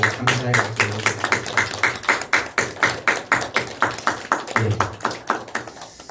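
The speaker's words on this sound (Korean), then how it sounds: "지금까지 우리를 품어주시고 안아주신 예수님께 우리 찬양의 박수, 경배의 박수, 감사의 박수 올려드립니다" A congregation claps together in praise at a church service, a steady rhythmic run of hand claps filling the whole stretch, loud and close, with no voices.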